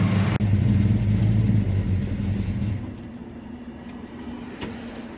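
A truck's engine rumbles loud and close with a deep, steady drone for about three seconds, then drops to a quieter, thinner idle as the truck keeps rolling on the road.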